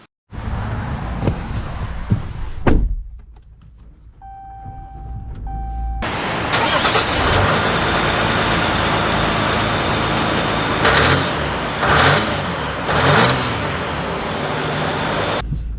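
A 2023 Ram 1500 Laramie EcoDiesel pickup cranks, its diesel engine catching with a loud burst and a brief chime. The engine then settles into a steady idle, followed by a sustained rumble as the truck pulls away, with a few swells in engine noise.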